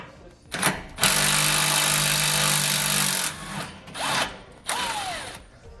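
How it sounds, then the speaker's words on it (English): Power tool driving an 18mm socket to remove sway bar end link bolts on a 2006 Winnebago motorhome frame, a loud sustained whir of about two seconds followed by shorter bursts that wind up and down. "We're going to use an 18mm socket to remove those."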